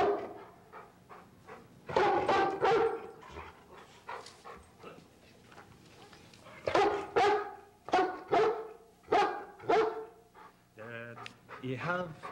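A dog barks repeatedly in short, sharp bursts mixed with whimpers and yips, close by and fairly loud, while a person talks over and between the barks.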